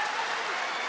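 Basketball crowd at a FIBA World Cup 2023 Asian Qualifiers game between Gilas Pilipinas and Saudi Arabia applauding Clarkson as he goes to the bench, a steady, dense wash of clapping from a large arena audience.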